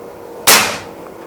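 A lone sharp shot from a 500cc PCP bullpup air rifle on a chronograph test, near and loud against a quiet background, with a short fading tail.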